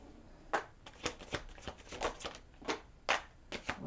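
Tarot cards being shuffled by hand in repeated quick riffling bursts, close and fairly quiet, with no voice over them.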